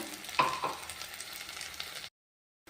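Ground masala sizzles and fries in a hot pan, a quiet, steady crackle with a few sharper spits, then it cuts off to silence.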